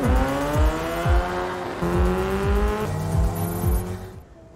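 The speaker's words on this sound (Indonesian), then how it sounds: "Dan dia memacu motornya lebih kencang." Motor engine in an action film revving hard as the rider speeds up, with repeated loud rising pitch sweeps of acceleration through the gears, close and dominant with no talk.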